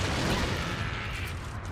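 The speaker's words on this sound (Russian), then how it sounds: "И взрыв. Взрыв." A dense, loud roar of explosive gunfire and blast noise from combat in the video game Resident Evil 3, sustained and broadband for nearly two seconds without a pause.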